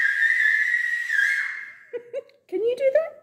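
A sustained, steady whistle held for about a second and a half, followed by a few short bursts of voice and a brief giggle.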